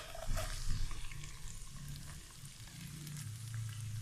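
Onions fry in a pan for aloo chicken samosa filling, a soft steady sizzle with occasional stirring scrapes, close and moderately quiet.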